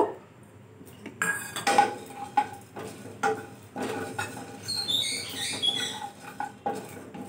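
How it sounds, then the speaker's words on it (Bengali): Whole cumin, coriander and other spices dry roasting in a pan, with a spatula scraping and clinking against the metal in irregular close taps and rattles amid light crackling. "একটু শুকনো আমি ভেজে নিচ্ছি"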